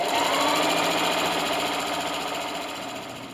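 A sewing machine with a walking foot stitches denim in a fast, even mechanical chatter, close and steady, tapering slightly at the end.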